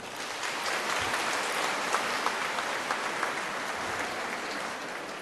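A congregation at Mass clapping loudly together, a dense, continuous roar of many hands filling a large church space, steady and sustained with a few sharper claps poking through.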